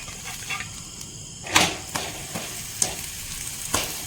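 Ragi balls sizzle in ghee in a pan as they are flipped over, a close steady frying hiss broken by several sharp scraping and clinking spatula hits.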